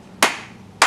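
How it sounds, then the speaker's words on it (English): Two sharp hand claps, close and crisp, spaced about half a second apart in an otherwise quiet room. "clap your hands"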